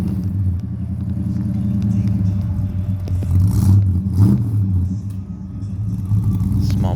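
A small-block V8 in a Nova convertible rumbles at an outdoor car show, a loud, close, throaty idle that swells in a couple of blips of revving.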